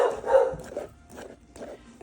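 A dog barks outdoors a few times, muffled and moderately distant, in short irregular bursts over low background noise.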